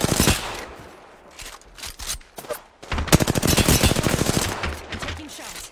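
Gunfire in a video game rings out in rapid, crackling bursts that grow into dense sustained volleys through the second half, loud and close, with brief quieter gaps between.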